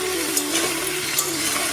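Mixed vegetables frying in a pan for vegetable pulao while being stirred, a continuous dense sizzle with soft scraping of the spoon through the pieces, close and steady without any talking.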